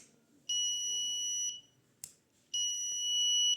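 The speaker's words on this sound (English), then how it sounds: "triggering a buzzer alarm when the temperature exceeds a defined range." Two loud, steady electronic buzzer tones of about a second each from an Arduino temperature alarm, separated by a brief gap with a short click between them.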